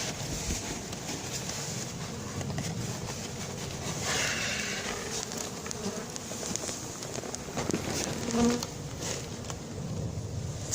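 A swarm of honey bees hums as it is hived, a dense steady buzz filling the air close to the microphone with light wind noise, and no voices.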